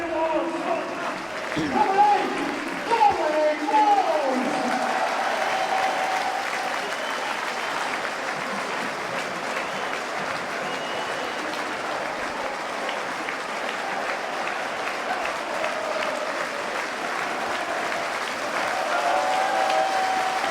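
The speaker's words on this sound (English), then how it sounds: "it's 1 or 2 Gateshead fans actually clapping that goal" Applause for a goal at a Wrexham v Gateshead football match in 2015, sustained and spread across the stadium crowd for the whole stretch with no break.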